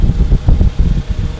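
A 2010 Toyota Harrier 240G SUV with a 106-horsepower engine runs nearby, giving a loud, close, low throbbing rumble with an uneven pulsing rhythm and no talk over it.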